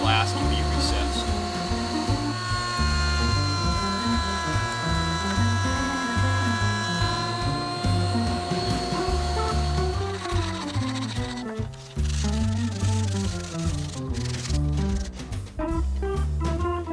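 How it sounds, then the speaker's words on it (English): A router table with a straight bit cuts a rabbet into a wooden picture frame, its high steady whine holding loud throughout while the cut adds rough chattering texture, especially in the final seconds. "Head back to the router table. With a straight bit, I'm going to cut a rabbet so the glass can be recessed."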